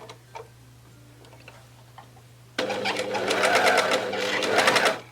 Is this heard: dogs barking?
no